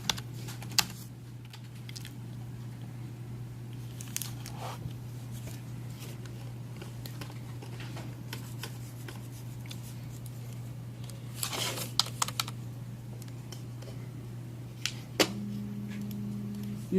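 Sparse keystrokes from typing a ping command on a computer keyboard, soft irregular clicks spread over a long stretch above a steady low electrical hum, with a brief tone near the end.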